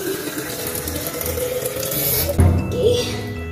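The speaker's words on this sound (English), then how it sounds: "now let's put water inside" Water pours into a container with a steady splashing fill, then a louder burst of sloshing near the end, close by and with no talk over it.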